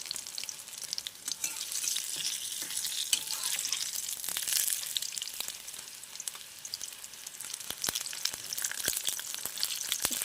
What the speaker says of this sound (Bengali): মিশিয়ে ডুবিয়ে ডুবিয়ে গরম তেলে ছেড়ে দেব